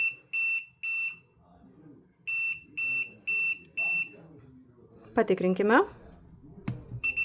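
A universal receiver's relay beeps in two short pairs and then four quick beeps after a BFT remote test, sounding loud and close, with a brief spoken word and a separate voice between the beep groups.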